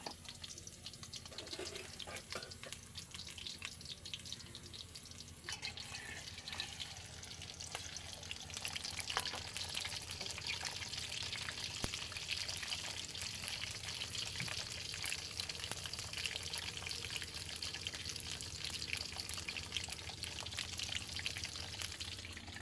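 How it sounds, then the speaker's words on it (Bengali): Potatoes frying in hot oil for a home-cooked biryani, a steady loud sizzle and hiss that builds and holds throughout with no talking. "এই যে আলু ভাজবো এখন।"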